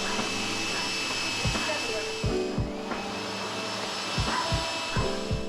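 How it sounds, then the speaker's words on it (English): A Gtech AirRam 3 cordless vacuum cleaner runs steadily as it picks up dirt from a carpet, with a constant motor whine and brief rattling bursts of debris being sucked in and flicked about. "the Gtech is doing a reasonably good job of picking up"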